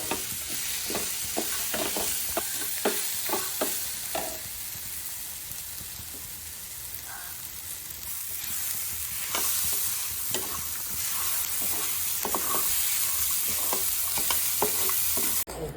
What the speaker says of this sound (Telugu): తాలింపు ఇట్లా వేయించుకోవాలి